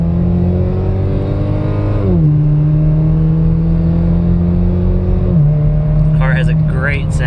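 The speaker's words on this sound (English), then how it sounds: "Car has a great sound, plenty of torque, plenty of boost." A 2017 Camaro 1LT with a four-cylinder turbo engine and an axleback exhaust accelerating hard, a loud close engine note rising through the gears with a shift dip, and brief chirpy sounds near the end.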